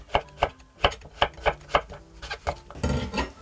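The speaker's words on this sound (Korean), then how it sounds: "애호박 반 개도 들어갈게요. 요거 좀 오랫동안 끓일 거라서 두툼하게 썰어주세요." Half a zucchini being cut into thick pieces on a cutting board, with a knife striking the board about ten times in an uneven rhythm, loud and close, ending in a brief scraping clatter.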